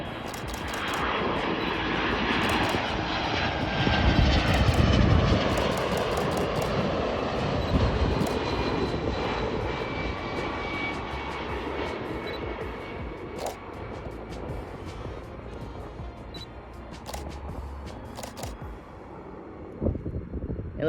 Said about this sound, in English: And let's see a touchdown. Let's see the heavy touchdown.